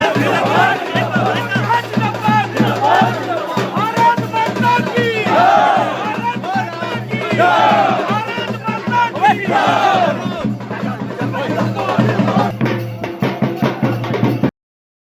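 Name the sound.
crowd chanting BJP slogans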